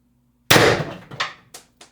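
A Pistelle X-68 airsoft gun fires one shot at a target trap about 14 feet away. A sharp crack and metallic clang are followed by a few fainter rattling knocks as it settles.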